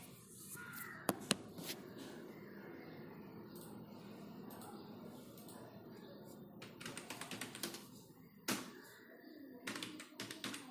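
Names are typed on a computer keyboard in a quiet room. Soft clicks and taps come in bursts, with crow caws in the background.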